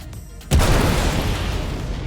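Two size 4 missiles strike an Avenger Titan spacecraft in a space combat game, landing as one sudden loud boom that fades into a long, rumbling roar with no speech over it.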